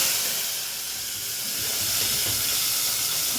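Mustard seeds, onion, garlic and curry leaves sizzle in hot oil for a sambar tempering, a steady, loud, close hiss of frying that holds without pause and with no voices over it.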